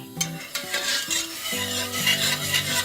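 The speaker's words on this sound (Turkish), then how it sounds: "Bu pişene kaynayana kadar böyle karışacak" A spoon stirs sütlaç, milk and rice pudding with a little flour, in a pot: steady scraping and rubbing strokes with faint sizzle-like bubbling. Soft background music plays throughout, and no one speaks.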